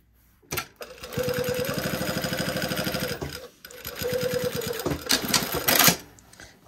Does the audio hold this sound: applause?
no